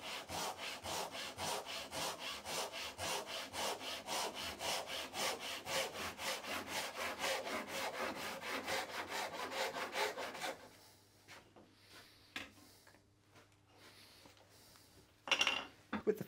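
A hand saw cuts through small pine pieces strapped together for a Japanese lantern, a steady rapid back-and-forth rasp for about ten seconds, then stopping, followed by a few faint wooden knocks and handling sounds.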